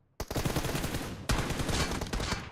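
Video game gunfire in two long automatic bursts, dense rapid shots starting abruptly after a moment of silence, pausing briefly, then resuming loud and close.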